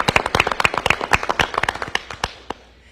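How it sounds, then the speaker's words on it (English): An audience claps at a news conference, brisk and close for about two and a half seconds before quickly thinning out and stopping. "Let's give them a round of applause."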